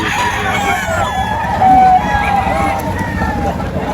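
A golden boy gamefowl rooster crows nearby in a drawn-out, loud call over outdoor background noise, with people talking around it.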